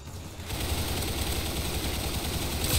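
Rapid gunfire from a video game, a dense, loud burst of automatic shots that starts abruptly after a brief quieter moment and continues without pause to the end.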